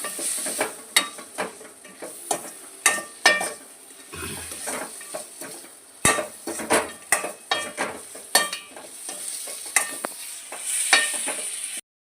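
Egg roast masala being stirred in a pan, with repeated clinks and scrapes of a spoon against the metal over a soft sizzle, irregular and close, with no voices.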